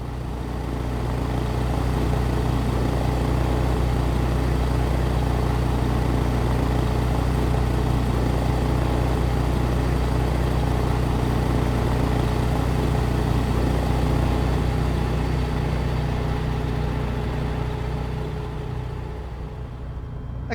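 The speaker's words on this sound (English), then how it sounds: "So now just waiting for the engine to warm up here" A Sting S4 light aircraft engine warming up in Microsoft Flight Simulator, a steady low droning hum that holds for about twenty seconds before fading slightly at the end, with no talk.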